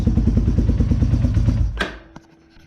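A Yamaha Warrior quad idles with a close, loud, rapid thumping exhaust beat, then cuts off abruptly, leaving a clank and quiet ticking afterward.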